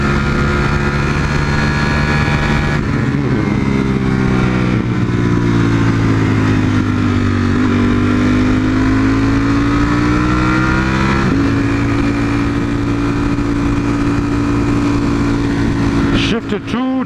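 A Ducati V4 motorcycle in street mode accelerates at full throttle, a loud, close, sustained engine roar whose pitch climbs and drops with quick gear shifts, filling the whole stretch.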